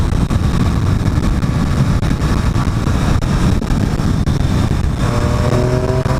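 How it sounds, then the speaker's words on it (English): A Triumph Street Triple 765 RS in track mode, ridden at speed: induction and engine roar buried under constant heavy wind buffeting, close and loud, with no speech. "I think that induction noise has just got somehow louder as well."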